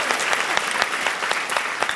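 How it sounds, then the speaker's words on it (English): Steady applause from an audience, many hands clapping at once in a dense, continuous patter with no voices standing out. "Everyone clap."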